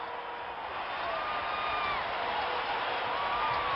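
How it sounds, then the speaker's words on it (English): A hockey arena crowd at a 1976 game between the USSR and the New England Whalers roars steadily after the final whistle, a loud, sustained wash of cheering with scattered whoops and no clear speech on top. "And listen to this crowd."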